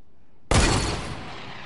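A sniper rifle fires once in the video game Fortnite, a sudden loud crack that tails off into a fading rumble.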